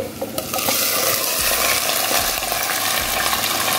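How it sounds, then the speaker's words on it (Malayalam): Masala-marinated chicken hits a hot pan for chicken curry, a loud, close, continuous sizzle with a few stirring clatters near the start. "അതിലേക്ക് നമ്മൾ നേരത്തെ മസാല തേച്ച് വെച്ച ചിക്കൻ ഇട്ട് കൊടുക്കുകയാണ്"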